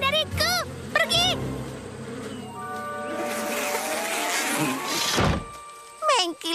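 Cartoon bees swarm with a rising, wavering buzz that swells in the middle and fades, amid chirpy voices and a few thumps.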